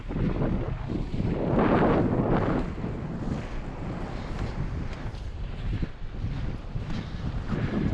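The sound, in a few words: wind blowing on a sailboat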